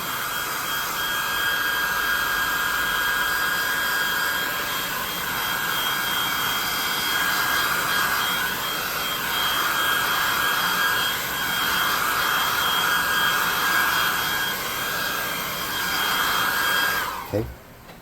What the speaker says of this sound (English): let's hit him with the hot air gun